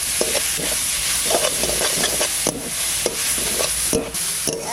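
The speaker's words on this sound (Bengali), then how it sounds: "এবার ভাতটা ভালো করে নাড়াচাড়া দিয়ে একটু ভাজা ভাজা করে নেব" Cooked rice is stirred and fried in a pan, a steady sizzle broken by repeated scraping strokes of the spatula, close and fairly loud, with no talking.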